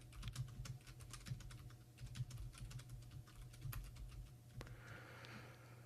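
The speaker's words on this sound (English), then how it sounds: "I'm going to start typing." Rapid clicking keystrokes on a computer keyboard, steady bursts of close, moderately loud typing over a low background hum, ending with a brief pause and a softer rustle.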